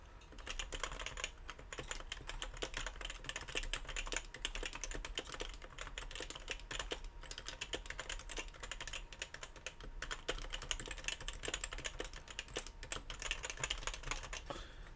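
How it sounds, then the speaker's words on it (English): Continuous fast typing on an old Pro 1 mechanical keyboard, about twenty years old, a dense unbroken stream of close, crisp key clicks with no talking. "just do some typing on this guy real quick"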